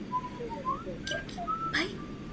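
A person whistles a short, wavering melody, with rising and falling notes close by. Brief clattering bursts break in partway through.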